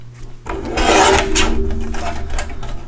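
Paper cut for a Thanksgiving gift card holder, a close, fairly loud rasping snip and scrape lasting a couple of seconds, with no talk.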